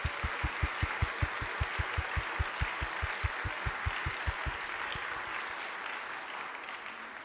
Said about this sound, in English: I'd like to give a very quick round of applause for some of those students.